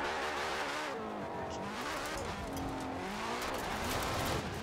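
A Porsche 911 in Forza Horizon 4 revs hard, its engine note climbing and shifting through gears with a continuous loud, rising and falling whine and faint tire noise.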